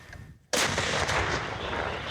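A heavy artillery gun fires once with a sudden loud boom, followed by a long rumbling echo that slowly fades.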